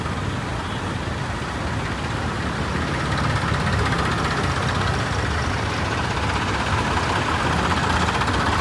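Tractor engines idling together at a Punjab farmers' protest tractor rally against land pooling, a steady, dense low rumble of many engines that holds level and swells slightly partway through, with no voices.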